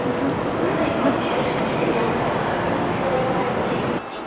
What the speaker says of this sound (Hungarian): Itt a vonat.